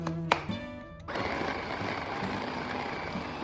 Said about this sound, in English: Blend all together